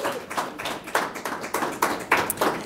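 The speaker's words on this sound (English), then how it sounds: "let's give her a round of applause and welcome her on." An audience at a campus lecture claps to welcome a speaker, a sparse, rhythmic patter of individual hand claps close by, without crowd noise.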